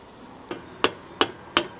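Hammer blows driving out the bent front wheel spindle of a Honda CBR125 motorcycle, four sharp metallic knocks at a steady, slightly spaced rhythm, close and clear over a quiet workshop background.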